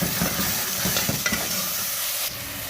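Onions, garlic and ginger sizzle in hot oil while being stirred, giving close scraping strokes over a steady frying hiss for a few seconds, with no voices.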